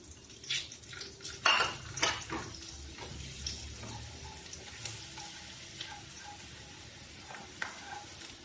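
Garlic frying in butter with a little olive oil in a pan, with metal utensil clinks and scrapes against the pan over a soft, steady sizzle; no talking.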